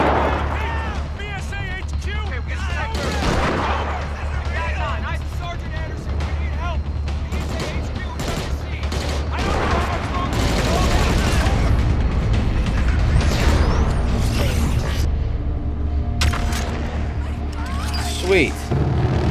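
Weapon secondary fire from a PS4 shooter video game at a live reveal event: repeated loud booming shots and mechanical clanks over a steady rumble, with people talking over it.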